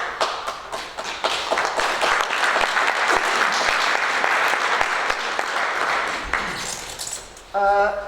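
Audience applause at a law moot court competition, a dense wash of many hands clapping steadily for several seconds before tapering off and giving way to a brief tonal sound at the end.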